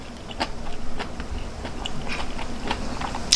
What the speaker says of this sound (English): Here's some nice bok choy leaves, nice and fresh and crunchy still.